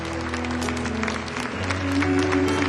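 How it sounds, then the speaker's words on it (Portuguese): A church congregation claps steadily in a broad wash of applause, with a sustained organ or keyboard note and a voice over it. "Pode aplaudir mais forte."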